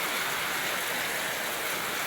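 Heavy rain pours in a steady, dense hiss that stays even and close throughout, with no voices over it.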